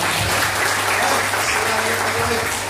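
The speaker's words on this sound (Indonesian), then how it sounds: "tepuk tangan dulu untuk kita semuanya" A crowd at a Ramadan gathering applauds together, a continuous loud wash of clapping filling the space with a steady hum underneath.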